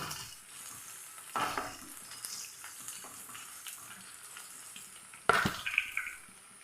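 Garlic and ginger frying in a pan, a soft, fairly quiet sizzle broken by a couple of sharp clattering utensil hits, no talk.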